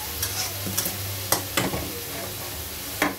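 Vegetables stirred and mixed in a pan for a Chinese-style dish: a steady low sizzle with several sharp scraping clicks of the utensil at irregular intervals, close and alone without speech.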